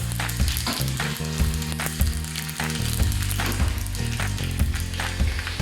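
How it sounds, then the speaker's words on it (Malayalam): Dried red chillies fry with popped mustard seeds in hot coconut oil for a pineapple pachadi, giving a steady, close sizzle with scattered crackles and stirring scrapes and no voices. "കടുക് പൊട്ടിയതിന് ശേഷം വറ്റൽമുളക് ഇടാം."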